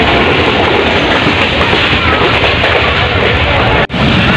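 A train crosses the Chenab river bridge in a loud, continuous rumbling roar of wheels and carriages, heard close and steady from on board, with a brief dropout near the end.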